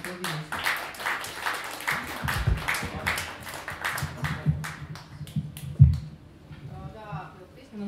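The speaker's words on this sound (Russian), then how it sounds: "И не стесняйтесь, можно аплодировать." Scattered clapping from a concert audience at a jazz quartet show rises around a voice talking, the claps uneven and moderately close before tapering off.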